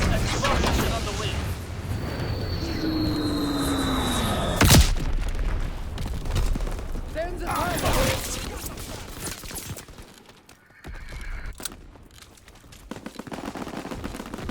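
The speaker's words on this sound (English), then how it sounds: "Blitz explosion on the way" A Blitz bomb explosion in Call of Duty: WWII multiplayer: loud booming blasts and rattling gunfire, with a whistling drop and a heavy impact near the middle, continuing amid battle noise and radio voices.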